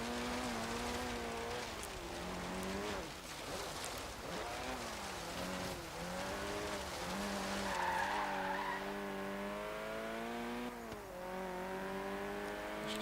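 A high-powered race car in a racing video game, tuned far beyond any road version, laps the track: a loud, continuous engine wail that rises and falls through gear changes, with tire squeal in places and no talking.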